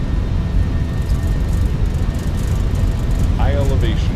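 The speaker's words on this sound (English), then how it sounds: "Takeoff power is set. We're rolling. Long takeoff roll." An Airbus A319 in a flight simulator runs its engines at takeoff power during the roll, a steady, loud, broadband roar and rumble that holds constant throughout, with a brief voice near the end.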